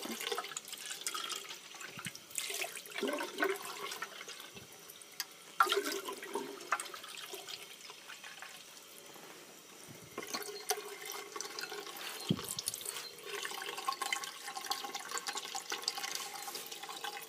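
A tap runs fresh water into a sink, a steady splashing stream with faint drips and small bumps throughout, no talking.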